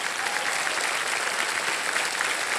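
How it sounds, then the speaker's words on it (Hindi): A studio audience at the KBC quiz show bursts into dense, steady applause, with constant clapping at an even level throughout and no voices on top. "तालियां बज जाएं जोरदार"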